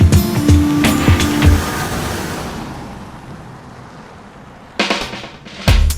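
A Volkswagen Touareg SUV with a 4.2 V8 turbodiesel drives past, its engine and road noise swelling loud then fading into a steady wash, followed by a couple of sharp nearby bursts.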